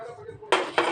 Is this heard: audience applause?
no